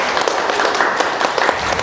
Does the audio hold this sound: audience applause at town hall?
yes